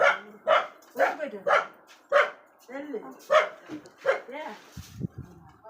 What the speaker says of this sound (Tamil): அந்த நாய் குலைக்கிற சத்தம் கூட உனக்கு கேட்கலையா?